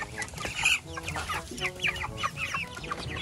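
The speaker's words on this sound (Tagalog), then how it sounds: "So, ito na yung ating mga manok," Chickens clucking and squawking together, a dense, busy chorus of overlapping bird calls heard close by, with some louder sharp cries standing out.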